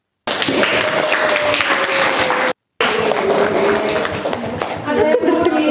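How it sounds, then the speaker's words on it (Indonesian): Classroom applause from students during a history lesson, a dense burst of clapping that breaks off briefly and resumes, with voices mixed in near the end. "Iya, tepuk tangan dulu."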